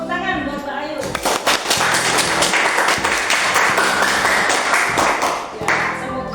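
A classroom of pupils clapping together in a thick burst of hand claps that swells and carries on for several seconds, with voices mixed in and a sharper clap or two near the end.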